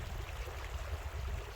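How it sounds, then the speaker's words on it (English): Water in a wild stream in Scotland runs by with a soft, continuous rush and gurgle, faint and a short distance away, with nothing else over it. "enjoy the sound of the water running by"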